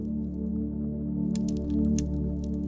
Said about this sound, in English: There is the wet, guttural click itself